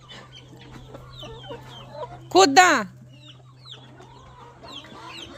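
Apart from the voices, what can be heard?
chickens and chicks clucking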